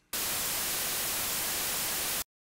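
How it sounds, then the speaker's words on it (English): A Zebra2 synthesizer plays a white-noise clip: a loud, even hiss that starts abruptly, holds unchanged for about two seconds, then stops dead. "if I play the white noise from track two"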